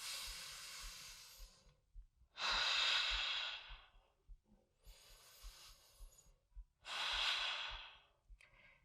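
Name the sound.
deep breathing in and out during exercise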